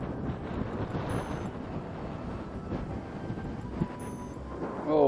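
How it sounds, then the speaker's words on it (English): Steady wind buffets the microphone outdoors while an RC airplane is flown, a continuous low rumbling roar with a faint engine whine threading through it. "Oh, the wind picked up quite a bit."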